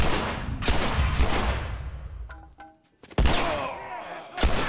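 Rapid gunfire from The Last of Us, with loud clusters of shots and sharp cracks, a brief near-silent lull with faint ringing tones, then another burst of close shots.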